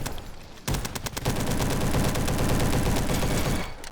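An SM-03 submachine gun fires a rapid, continuous burst of shots in the Roblox game Bad Business, loud and close, lasting about three seconds with no talking.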